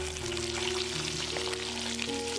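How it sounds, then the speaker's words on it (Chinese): Sea bass pan-frying in oil over low heat, giving a steady, close, soft sizzling hiss with light tones running underneath and no voices. "小火慢慢的煎"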